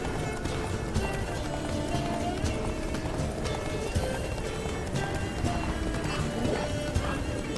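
Horse galloping in the video game The Witcher 3: Blood and Wine, a steady run of hoofbeats with an occasional whinny, heard close and continuous beneath a bed of game music and ambience.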